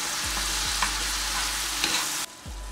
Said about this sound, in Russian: Ну, теперь хорошенько все стараемся перемешать.